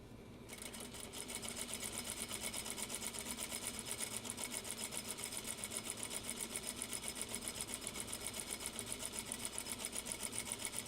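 A sewing machine stitches steadily in a sewing room, its fast, even mechanical chatter running continuously and close for about ten seconds with no talk.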